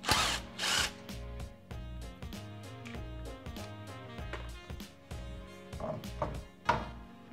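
Impact-style power tool with a 21 mm socket spinning wheel lug nuts off a Nissan 350z, harsh bursts of motor whine and rattling repeated several times, loud and close with no talk.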